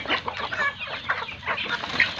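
Native chickens cluck and chatter busily at feeding time, a quick, overlapping flurry of close calls heard without any talk.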